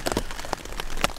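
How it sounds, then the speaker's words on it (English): Rain drums unevenly on a camping tarp pitched off-trail in Wyoming's Wind River Range, giving a brief, close-up patter of scattered drops and taps. "Raining again."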